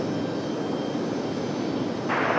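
A 20-year-old Air Canada Jazz airliner arriving from Toronto at Raleigh-Durham airport sends a steady, fairly loud jet roar across the field, its whine rising slightly at the end.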